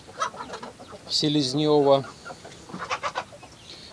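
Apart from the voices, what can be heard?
chicks at a feeder made from a canister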